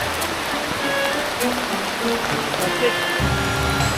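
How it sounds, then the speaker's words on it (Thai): Heavy rain pours steadily on surfaces in an Indonesian city, a dense continuous hiss with scattered drips, and faint background voices and sounds running beneath it. "ฝนตกหนักมาก"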